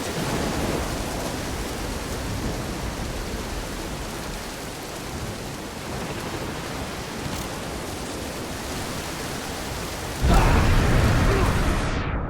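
Heavy rain pours steadily in a stormy Dead Island: Riptide scene, a dense constant roar that swells louder near the end with a rumbling thunder burst.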